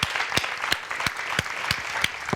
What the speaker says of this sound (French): Acclamation pour l'accueillir s'il vous plaît.